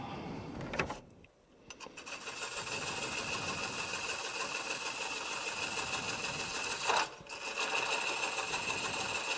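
A spindle gouge turns a wooden plate or platter on a wood lathe and catches, kicking back. The lathe gives a steady high whine and hiss, broken by two sharp catches, one early and one later.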